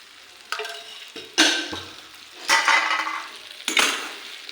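Stuffed brinjals cooked village-style are mixed in hot oil in a pan, giving several loud scraping, clattering spatula strokes in separate bursts with soft sizzling between them and no talking.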